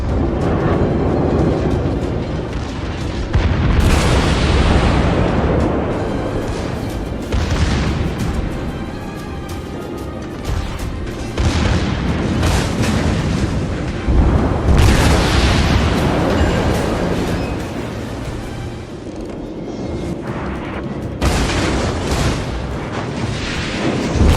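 Naval battle in the Naval Legends video game with the Soviet cruiser Mikhail Kutuzov: dense, continuous booming explosions and heavy gunfire rumble loudly throughout, with bursts swelling every few seconds.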